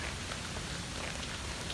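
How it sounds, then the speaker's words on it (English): Rain falling at Disney's Animal Kingdom, a faint, steady hiss of drops with no other distinct sounds. "It's also raining, so people are probably behind."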